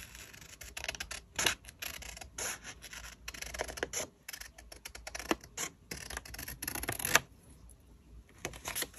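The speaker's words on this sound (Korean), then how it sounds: "오늘따라 가위질을 좀 못하는 것 같은데" Scissors snipping paper cutouts for horror-themed journal decorating, a steady run of close, crisp cuts and rustling paper with brief pauses, no voices.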